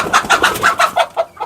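Native country chickens on a village farm cluck in a quick, uneven string of short notes, close and fairly loud, with no voices over them.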